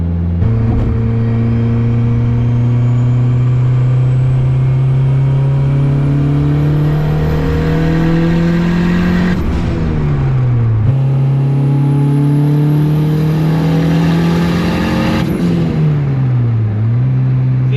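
A built single-cam turbocharged car accelerates hard at high boost, around 30 psi. The engine note climbs loud and steady through two long pulls, each ending in a sharp drop at the gear change.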